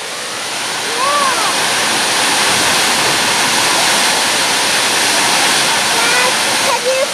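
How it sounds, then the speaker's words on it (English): Loud, steady rush of a waterfall at a theme park, a dense roar that fills the whole stretch, with a child's and an adult's voices briefly heard over it. "It is a waterfall, isn't it?"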